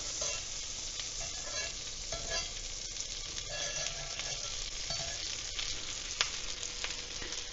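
Butter sizzles steadily in a hot pan as a potato rösti fries, with a dense, even crackle and occasional clinks of a utensil against the pan, close and continuous throughout.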